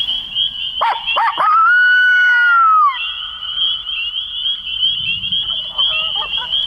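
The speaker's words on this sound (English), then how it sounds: "That sounds like a mature gobble there." A wild turkey's rapid gobble rings out near the start, then a steady high insect-like drone continues through the rest, in Minnesota.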